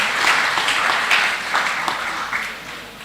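Steady audience applause at a Scout Day anniversary ceremony in Tegal, a dense wash of clapping from a crowd that holds for the full few seconds, with no one speaking over it.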